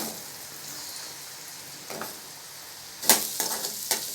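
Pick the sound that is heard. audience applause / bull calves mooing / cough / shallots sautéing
shallots sautéing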